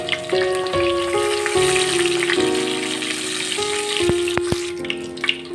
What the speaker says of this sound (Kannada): ಬಿಸಿ ಆದಮೇಲೆ ಸ್ವಲ್ಪ ಅದಕ್ಕೆ ನಾವು ಜೀರಿಗೆ ಹಾಕ್ಕೊಳ್ಳೋಣ